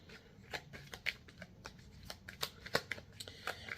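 Tarot cards shuffled and drawn for a Pisces love reading: a steady stream of soft, papery riffles and light flicks, close and fairly quiet over faint room hiss, with no talking.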